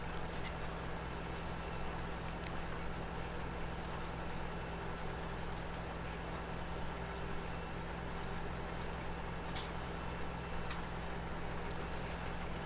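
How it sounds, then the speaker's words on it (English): A tractor in Farming Simulator 17 pulls under load, a steady low droning engine rumble with a faint rhythmic pulsing, continuous and fairly loud with no talk over it. "I love the sounds this tractor is making"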